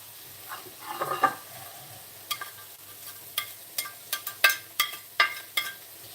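Garlic sizzling in a frying pan, with a soft continuous fry broken by a series of sharp scraping clicks as a utensil stirs against the pan.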